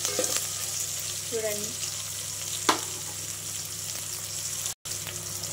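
Onions fry in a pan for sambar with a steady, close sizzle and occasional stirring scrapes, one brief word spoken over the cooking.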